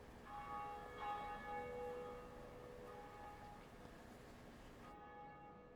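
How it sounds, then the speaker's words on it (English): A church bell in the Dark Souls video game rings out in a few resonant strikes with long ringing tails, faint and distant, fading near the end. "let's ring a bell"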